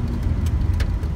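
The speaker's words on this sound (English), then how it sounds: "Laguna Canyon Road traffic" Steady low engine rumble of cars idling and creeping in a traffic jam on Laguna Canyon Road near Laguna Beach, a close, continuous drone without distinct pass-bys.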